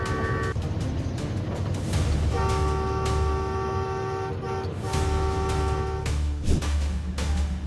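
High-speed train approaching on railway tracks, sounding long steady horn blasts over a rumbling roar, fairly loud, with brief breaks between the tones.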